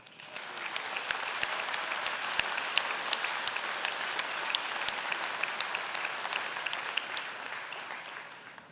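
Sustained applause from a large graduation ceremony audience at Ferris State University, a dense even wash of many hands clapping continuously, with a few sharper individual claps standing out near the microphone.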